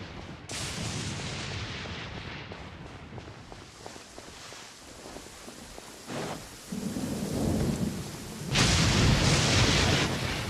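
Heavy thunderstorm in a fantasy game world: steady rain roar with repeated booming thunder cracks, the biggest claps building louder toward the end, no talking.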